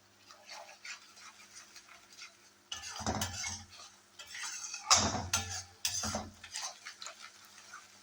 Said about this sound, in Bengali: আর এখানে বড়াগুলো তো ফ্রাই হচ্ছেই, দেখতেই পাচ্ছ